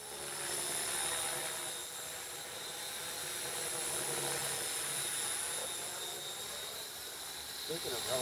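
An RC model helicopter flies a loop outdoors alongside a Stratos, a Thunderbolt and a Super Cub, its steady rotor whine and hiss fairly loud throughout while people talk nearby.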